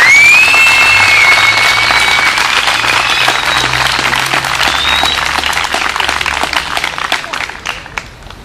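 A large crowd at an open-air forum in Ethem Sarısülük Park claps loudly and continuously, with a few shrill whistles early on, and the applause slowly thins out toward the end.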